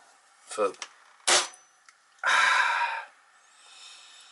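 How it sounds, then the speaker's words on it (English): A few sharp snapping clacks from a Nerf Pro Torrent foam blaster dry firing, each a short burst of air and spring, followed by a longer hiss of air. "dry fire is quite loud"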